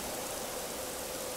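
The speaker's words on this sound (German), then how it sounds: "Ey, du hast hier Regen, alles," Steady, even rainfall in the video game Generation Zero, a dense hiss of rain that fills the whole moment without a break.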